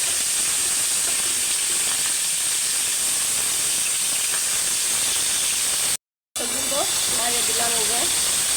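Food fries in a pan while being stirred, giving a steady loud sizzle and hiss throughout with a brief cut, then clattering utensil scrapes and a voice talking over the frying.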